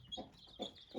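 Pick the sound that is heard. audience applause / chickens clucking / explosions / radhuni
chickens clucking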